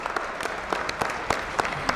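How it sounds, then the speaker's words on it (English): A crowd claps at a college commencement ceremony, a busy patter of many hands with a few sharper individual claps standing out, sustained and fairly loud throughout. "let's clap to that too"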